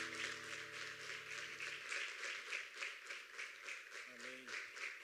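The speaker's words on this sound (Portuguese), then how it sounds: "Vamos bater uma salva de palmas para esse ministério abençoado aqui" A church congregation at a worship ministry festivity claps in steady rhythmic unison, moderately loud and sustained, while a musical tone holds underneath and fades out.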